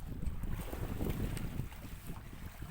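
Small boat heading out to sea in strong wind and rough waves, with steady gusting wind rumble and water wash close to the microphone throughout, no voices.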